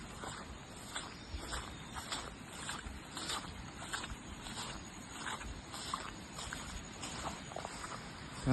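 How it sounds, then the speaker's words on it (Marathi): Water flowing steadily through a stream or creek in rural Konkan during the rainy season, a continuous broadband rush with faint patter, heard close and alone without voices. "पाण्याचा जर तुम्हाला आवाज येत असेल"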